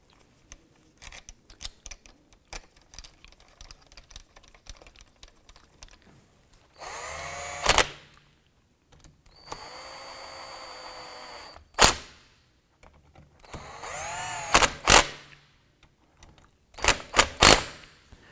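A power tool drives the three rear bolts of an ignition switch actuator on a 1993–1997 Ford Ranger, buzzing in several short, loud bursts separated by quiet pauses filled with small clicks and handling noises.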